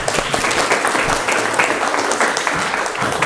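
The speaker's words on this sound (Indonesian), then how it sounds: "Tepuk tangan untuk kita semua." Applause from students in a classroom after group presentations, dense irregular clapping spread across the whole stretch at steady moderate loudness, with no voices on top.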